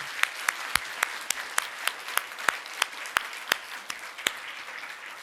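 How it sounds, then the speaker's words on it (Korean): Church congregation clapping in encouragement, with many sharp, distinct claps sounding close and loud over a quieter layer of scattered clapping throughout. "다시 한번 박수로 한번 격려를 해 주셨으면 좋겠습니다."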